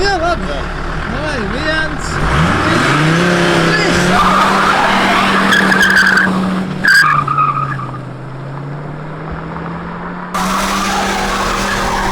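A BMW 325d and a Volvo S70, one running on alternative fuel, drag race with engines revving up and droning loudly, tires squealing, and people talking over the noise.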